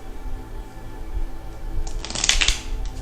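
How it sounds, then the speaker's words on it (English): Mystic Mondays tarot deck being shuffled, quiet handling at first, then a burst of crisp riffling card flutter in the second half before it settles. "let me do a big shuffle"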